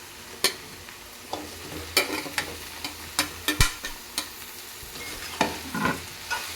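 Prawn curry with drumsticks cooking in a pan: a quiet, steady sizzle of frying under a series of sharp scraping and clinking stirs from a spoon against the pan, spaced irregularly every half second or so, with no voices.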